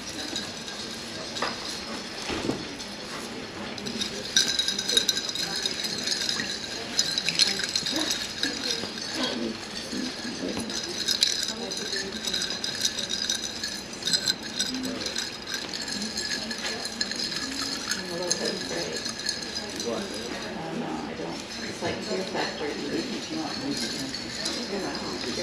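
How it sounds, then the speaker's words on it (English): Cocktail being stirred in a glass during a mixology class in a cruise ship lounge, with small clinks and rattles of a spoon and ice that repeat through the clip under steady talk and background chatter. "So stir it nicely, stir it nicely"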